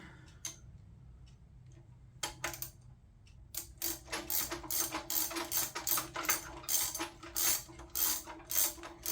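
A ratchet wrench with a 13/16 socket works the oil drain plug loose on a Honda EG1400Z generator, sparse clicks at first, then a fast, close, rhythmic run of ratcheting clicks.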